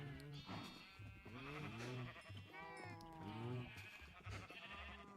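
Sheep in Minecraft bleat repeatedly in wavering, nasal calls that come one after another over about five seconds, loud and close, with a few overlapping cries.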